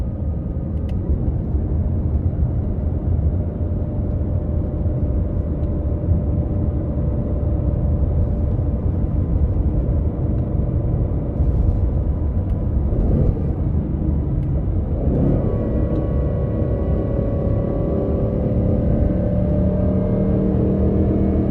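A 2024 Ford Mustang GT accelerating in second gear from a 40 mph roll makes a steady, loud, low engine rumble throughout, rising slightly in pitch as it pulls, with a brief shift in tone partway through and no talking.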